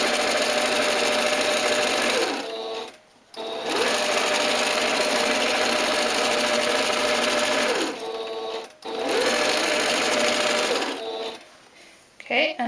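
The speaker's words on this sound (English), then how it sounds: "as I sew the straight line, I have my hand to the left of the presser foot" A domestic sewing machine runs steadily while stitching a straight line on fabric, a fast continuous whirring hum that pauses briefly twice before restarting, and a voice talks softly over it.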